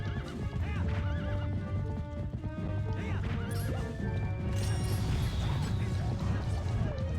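In the video game Twilight Princess, a horse whinnies repeatedly over continuous galloping hoofbeats, amid dense battle noise and music, loud and close throughout.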